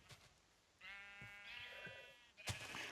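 Sheep bleating in the video game Minecraft: one long, wavering bleat at moderate loudness, framed by short clicks and game sounds before and after.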